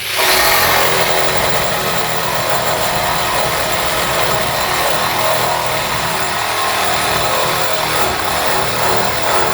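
A SKIL 12 volt cordless reciprocating saw with a 7/8 inch stroke cuts steadily and loudly at close range, a continuous buzzing motor whine with a harsh blade rasp that holds for the whole stretch.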